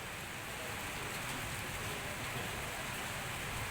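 Heavy rain pours down in Uttarakhand, India, as a constant, dense, full hiss that stays even and close for several seconds, with no voices over it.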